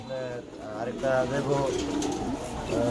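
Pigeons coo softly in a steady low murmur, with people talking nearby over the birds.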